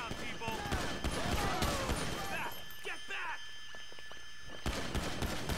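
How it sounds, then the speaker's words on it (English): Gunfire bursts in Grand Theft Auto 5, with shotgun blasts among sharp cracks and clattering impacts over a busy scene, a lull in the middle before the shooting resumes, while a person talks over it. "Bro, that's a shotgun."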